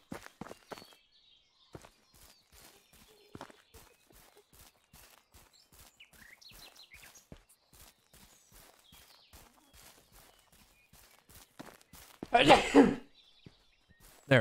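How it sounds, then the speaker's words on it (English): A character lets out one sharp, loud sneeze late in a quiet stretch of the medieval farming game, following soft footsteps and faint ambient clicks. "There's the sneeze of the episode"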